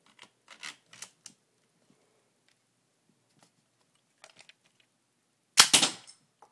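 A homemade Lego bolt-action rifle fires a bullet with one sharp, loud snap up close, preceded by a few faint clicks and rattles of handling, with no talking.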